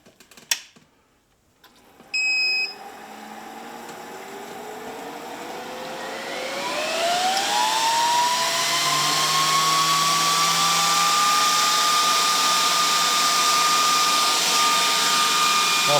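A VEVOR 30MPa portable PCP air compressor starts up after a couple of clicks, its motor whine rising steadily in pitch over several seconds before settling into a loud, constant mechanical drone.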